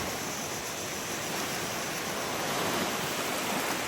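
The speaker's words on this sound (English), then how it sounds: "So these first 2 or 3 sets of waves will not be here in another hour or two probably." Steady surf washes onto the beach at Sabang, Palawan in the Philippines, a continuous broadband rush of breaking waves with no distinct individual crashes, moderately loud and unbroken throughout.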